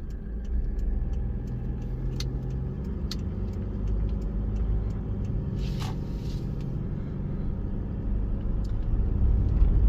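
A Toyota Fortuner 3.0 D4D SUV rolls over road humps, heard from inside as a steady low engine and road rumble with a few faint knocks and rattles, growing slightly louder toward the end.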